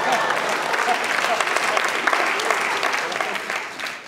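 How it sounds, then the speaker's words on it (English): Audience applause at a float conference session on the industry's future, a dense steady round of clapping from a large crowd that holds for several seconds and starts to thin toward the end. "Is it sad that that's the loudest applause we've gotten so far?"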